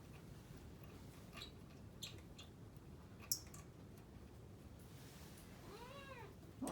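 A cat meows once near the end, a short rising-falling cry, against low steady rumble and faint ticking in a workshop around a Chevy square body farm truck with a 454 big block.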